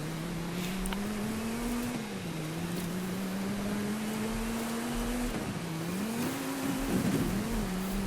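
Race cars in Forza Horizon 5 give a continuous engine drone that rises and dips with gear changes and throttle, close and steady over the whole stretch, with a brief burst of rougher noise near the end.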